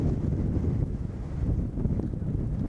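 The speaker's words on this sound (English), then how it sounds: "You can also hear the wind." Strong wind buffets the microphone on a mountain summit at Table Rock, a steady, loud low roar with gusty swells throughout and no voices.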